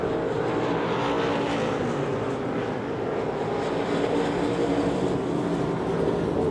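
Limited modified race cars roar around the dirt oval at Devil's Bowl Speedway in Texas, a dense, continuous engine drone filling the track without a break, with no speech.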